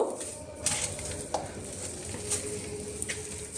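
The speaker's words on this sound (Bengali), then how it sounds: "এটাকে আগে ভালো করে আমি একটু চটকিয়ে নিই" Milk cream being mashed by hand with a little water for homemade ghee: quiet, soft, wet squishing and stirring, with a few faint clinks now and then and no talking.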